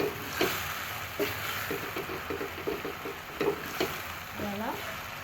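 Carrot being stirred into a sizzling pan of tomatoes, chili and seasonings, with a steady frying hiss and a series of soft scraping, clinking stirs from a utensil against the pan, fairly close.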